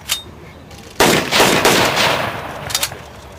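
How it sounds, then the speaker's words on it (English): A blank-firing M1 carbine at a WWII encampment reenactment goes off in a loud burst, one sharp crack followed by a second after a brief pause, then a rolling echo that fades over several seconds outdoors, with no voices. "We're going to blank fire the M1 carbine now."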